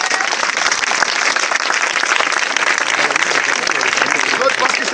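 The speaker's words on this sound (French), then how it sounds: "Acclamons Jésus-Christ." A church congregation applauds in acclamation of Jesus Christ during a French-language worship service, a loud, dense, unbroken wash of clapping and crowd voices that holds steady throughout.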